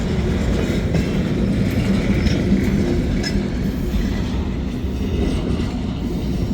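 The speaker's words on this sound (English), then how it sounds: "This train might go all the way up to Channing tonight." A freight train hauling pulpwood cars rumbles past, a loud, steady roar of wheels and rail clatter close by with faint high squeals, continuous and without talk.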